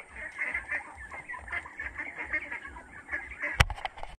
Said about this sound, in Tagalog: Manok nandito.